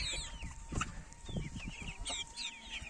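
A broody turkey hen clucks softly among chickens and chicks, with repeated low clucks and higher chirps close by and no talk.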